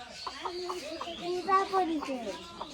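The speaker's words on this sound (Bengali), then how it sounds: "এই মুরগিকে বেঁধে রেখেছে কেন?" A tied-up chicken clucks in a short series of rhythmic calls close by, with a few higher chirps mixed in and a voice talking faintly in the background.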